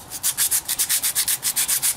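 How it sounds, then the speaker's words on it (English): Hand sanding of a wooden dog roll-around toy, heard as a quick steady run of about a dozen short rasping strokes, close and clear with no talk. "Sand that off a little bit."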